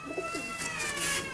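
Pigeons held in a keeper's hands coo softly and repeatedly at close range, their low, throaty calls rolling on with no talking.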